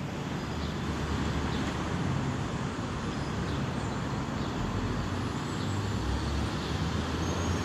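Cars and trucks passing on nearby roads, a continuous loud roar of traffic with rumbling low engine noise rising and falling as vehicles go by, no talking.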